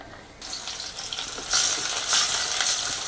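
Oil hissing and sizzling in a cooking pot, a steady frying crackle that swells louder partway through, with faint stirring scrapes and no voices.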